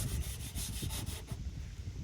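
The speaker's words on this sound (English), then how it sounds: "it's going to be white underneath if you just keep on scrubbing" Spray paint is scrubbed off a $100 Don Prudhomme funny car body with rapid, rhythmic rubbing strokes, close and fairly quiet, that stop briefly partway through.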